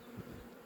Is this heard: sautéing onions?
no